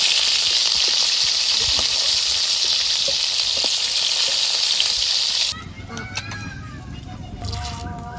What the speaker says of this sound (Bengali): এখন আমি মাছ দিয়ে দেবো